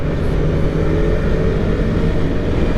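A 2023 Suzuki SV650 motorcycle engine revs hard at high RPM, producing a loud, steady, close-up drone that holds for a few seconds with no speech.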